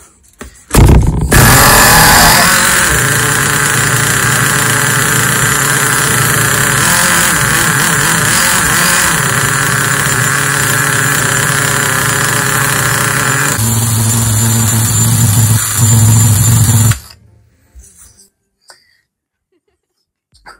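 A nitro RC car engine fires up and runs at a loud, buzzing high-pitched rev for about fifteen seconds, shifting tone partway through, then abruptly cuts out into near silence with a few faint clicks.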